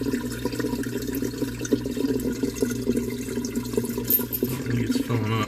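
A kitchen dishwasher fills with water during a cancel cycle, a steady close trickle and gush over a low mechanical hum, with a brief gurgling change near the end.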